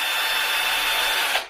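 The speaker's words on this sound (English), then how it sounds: "Little bit on the cotton wool pad, same again, pinch around the front, turn the drill on" An electric drill spins steadily at high speed while polishing an airbrush needle with cutting compound on a cotton wool pad, a continuous close whirring whine that cuts off abruptly at the end.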